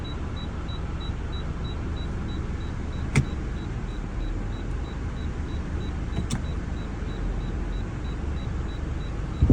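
A Honda car running on LPG idles with the air conditioning on and worn engine mounts: a steady, close low rumble throughout, with a faint intermittent high beep and two brief clicks.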